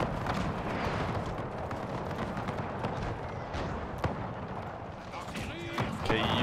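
Artillery cannons fire canister shot on a Napoleonic battlefield in a Total War mod, with a steady roar of battle and several scattered booming shots under continuous noise.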